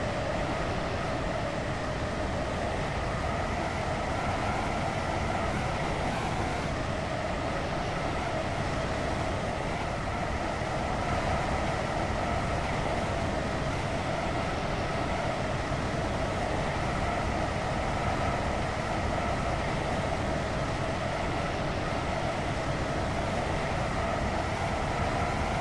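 A Roblox Stepford County Railway Airlink train running toward Stepford Central, a continuous loud rumbling drone of wheels and motors with a steady hum, no clear voices.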